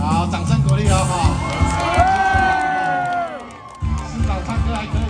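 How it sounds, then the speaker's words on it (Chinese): An audience at a live song performance cheers and whoops with shouts rising over a crowd murmur, a long gliding vocal cry stretching across the middle, followed by renewed excited crowd noise and some talking. "好，掌声鼓励哦！"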